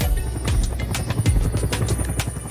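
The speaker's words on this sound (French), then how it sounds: "Hélicoptère! Hélicoptère!" A helicopter's rotor beats steadily and loudly throughout, with a dense rhythmic chop and low engine rumble and no talk over it.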